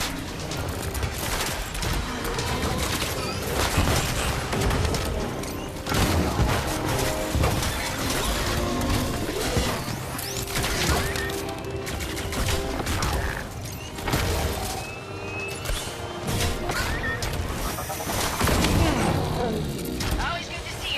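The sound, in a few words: Iron Man VR video game Micro Swarm weapon firing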